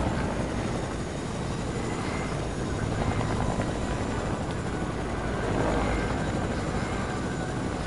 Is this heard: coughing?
no